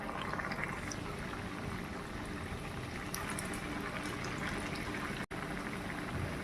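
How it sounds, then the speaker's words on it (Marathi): Rava medu vada frying in hot oil over a medium gas flame, giving a steady, dense sizzling hiss that runs without a break, with only a brief drop near the end and no voices. "तेल तापले, आता वडे ना सोडून घेऊ आणि तळून घेऊ"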